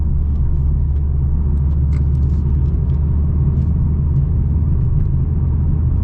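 A 2023 Mercedes-AMG CLA 45 four-cylinder drives with a constant heavy rumble of engine and road noise from inside the cabin, with faint shifts in pitch as it downshifts.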